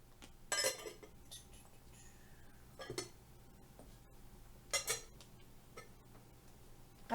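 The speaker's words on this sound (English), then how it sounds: "Now let's just put the lids on." Glass jars from a colored mirror jar set having their lids put on, giving several close, crisp clinks and taps spaced out with quiet pauses between.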